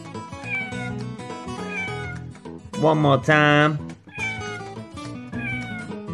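A kitten meows in a children's read-along, with one clear, drawn-out meow rising above cheerful background music while a voice speaks before and after it.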